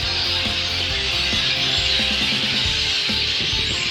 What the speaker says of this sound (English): It is clearly the right season to get to listen to all the birds.